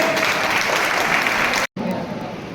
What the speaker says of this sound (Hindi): एक बार और पूरे जोरदार तालियां सबके लिए।